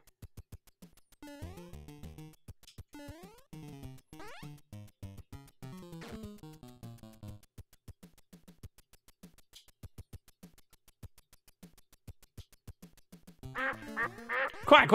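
Cartoon duck quacks sound effect played during a Super Mario Maker livestream, a string of short nasal quacks in bursts, fairly clear and alone, building to a denser noisy flurry at the end.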